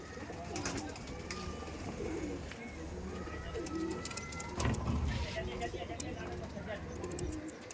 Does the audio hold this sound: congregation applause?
no